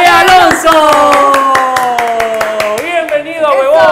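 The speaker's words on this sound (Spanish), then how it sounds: "vamos a llamar con un fuerte aplauso, Carmen Pérez." Applause and cheering from a talk show audience greeting an arriving guest, steady rhythmic clapping mixed with raised voices and a tonal, sung or musical layer, loud and continuous throughout.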